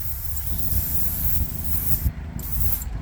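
A paint spray gun hisses steadily as it lays a coat on a custom Gulf-themed Camaro, a close, continuous airy spray with brief pauses and soft handling noises.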